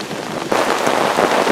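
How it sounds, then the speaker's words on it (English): Steady rain pours down on a forest after about a week of rain, a dense hiss of drops on leaves and ground that swells slightly louder partway through, with no voices. "it's been raining for about a week"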